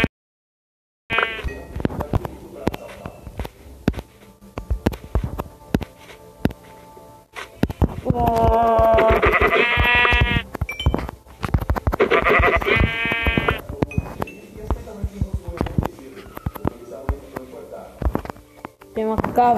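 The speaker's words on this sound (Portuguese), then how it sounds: "Ovelha." Sheep in the Minecraft video game bleat loudly in two long, wavering calls, among scattered clicks and small game noises.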